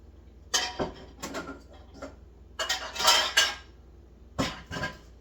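Dishes, pots and cutlery clatter and clink in a home kitchen during cheese prep, with several sharp bursts of metal and ceramic contact spread irregularly across the stretch, close and moderately loud, with no talking.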